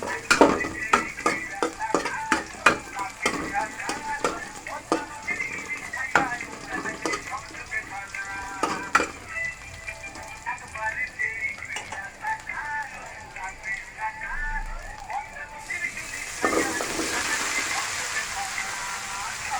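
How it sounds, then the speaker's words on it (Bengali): Onion, garlic and green chilies frying in a pan for a squash stir-fry, with a steady sizzle broken by repeated clattering stirs of a spatula, close up, and the hiss swelling louder near the end. "কাঁচামরিচ দিয়ে দেবো ভালো করে ভেজে নেবো"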